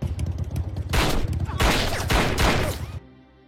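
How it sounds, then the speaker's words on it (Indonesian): Gunfire as police officers are shot in a film scene: loud bursts of volleyed shots over a rumbling action-movie soundscape, several dense salvos in quick succession before cutting off abruptly. "Ternyata Juice menembak beberapa polisi yang sedang nongkrong."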